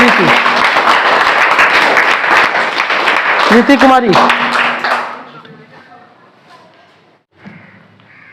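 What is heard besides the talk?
audience clapping for a quiz contestant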